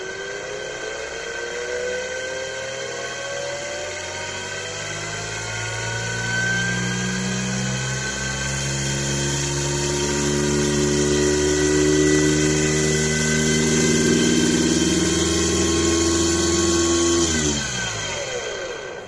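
A homemade DC motor whirs as it spins up from a slow start, its steady tonal whine climbing gradually in pitch and loudness for many seconds before cutting off abruptly near the end.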